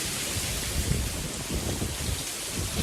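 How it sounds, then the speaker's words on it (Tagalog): Heavy typhoon rain in Spain pours steadily and densely, a continuous close hiss with low rumbling underneath and no voices. "At saka ito yung pinakamalakas na ulan ngayon."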